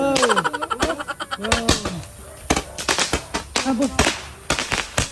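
Sharp firecracker bangs pop in quick irregular bursts at New Year, loud and close, mixed with crackling and people talking and calling out between explosions.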